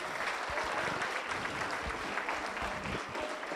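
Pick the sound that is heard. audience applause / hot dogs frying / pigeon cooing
audience applause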